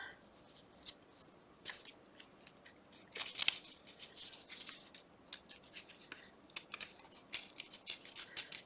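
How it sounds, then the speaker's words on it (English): Paper is torn by hand to make a Valentine envelope pocket. Faint, short, crisp ripping bursts come in irregular bursts over a quiet background, close by. "Just need to tear it a tiny bit more."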